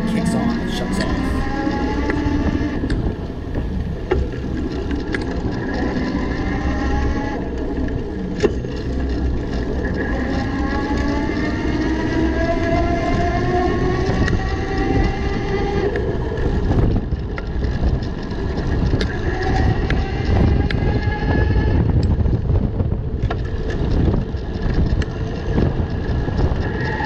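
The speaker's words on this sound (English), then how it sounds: "you can hear that delay from the time I start pedaling to the time the motor actually kicks on and shuts off" Electric motor of a DJ Bikes DJ City e-bike whining as it kicks on and shuts off while pedaling outdoors, steady under strong wind noise on the microphone, with rising and falling motor tones across the stretch.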